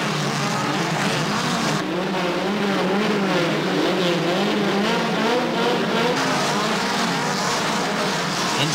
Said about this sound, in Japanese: エンジン音が高まります。